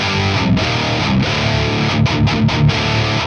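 Electric guitar played through a distortion pedal with the blend set to zero so only its EQ shapes the tone: loud, sustained chords and riffs with brief choked stops, close and continuous, no voice.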